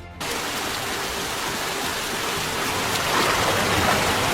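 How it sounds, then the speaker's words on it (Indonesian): Heavy rain pours down in a film scene, a loud dense continuous hiss that swells slightly stronger toward the end. "Di tengah derasnya hujan"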